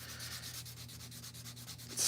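Steady, close rubbing of sandpaper on a slingshot being wet sanded, with regular back-and-forth strokes in an even rhythm and no voices.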